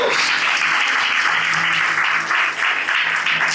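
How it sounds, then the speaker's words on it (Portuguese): Congregation applauding during a Portuguese-language church service, steady dense clapping filling the room without pause, loud and close. "Você pode aplaudir ao Senhor nessa manhã?"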